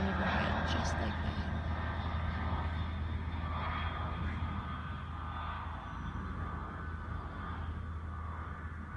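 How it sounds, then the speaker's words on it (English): A plane passes overhead, reportedly with its landing gear down, making a broad, steady roar that slowly fades over several seconds, with faint voice-like sounds beneath it. "that is the 4th time that same plane has flown overhead, just like that"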